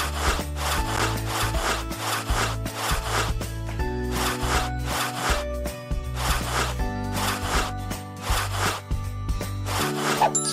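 Cartoonish rubbing or scrubbing effect from a kids' educational game, rhythmic back-and-forth strokes like sawing, layered over a looping tuneful music bed, with no voices.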